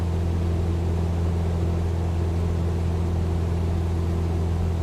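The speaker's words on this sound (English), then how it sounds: "I hope you can hear me all right over the engines" Steady, loud drone of a Cessna 172 single-engine propeller plane cruising in Microsoft Flight Simulator 2020, a constant low hum with strong tonal layers and no breaks, heard alone.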